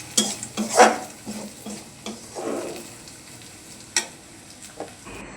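Onion, chili and spice masala cooking in a pan for a dried shrimp dish: soft sizzling with spatula scrapes and stirring clatter, a few sharp metallic knocks, and no talking.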